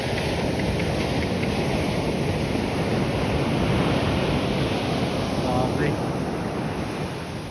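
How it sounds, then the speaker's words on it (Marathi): Big ocean waves roll past a small boat at sea, making a constant loud roar of surf with heavy wind buffeting the microphone throughout. "खूप मोठा लाटा आहे."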